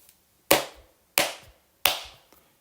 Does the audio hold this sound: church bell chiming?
no